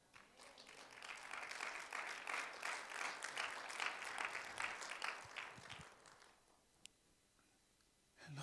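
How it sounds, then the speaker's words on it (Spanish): A church congregation claps together, a dense patter of applause building for about six seconds, moderately near, then fading into quiet room tone. "¿por qué no le das una ofrenda de aplausos?"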